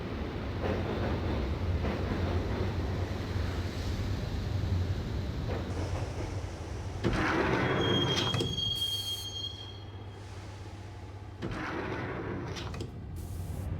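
A subway train ride in the Max Payne video game, a heavy continuous rumble of rail cars with shrill wheel squeals and metallic screeches, loud and close, swelling and easing as the car moves.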